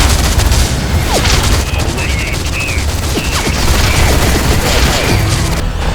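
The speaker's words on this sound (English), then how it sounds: "The disparate sounds of battle often blend together in a tinny, muddled mess." Battle in the video game Hybrid: dense, continuous gunfire and booming explosions blended into a loud, muddled wall of noise, with faint indistinct voices mixed in throughout.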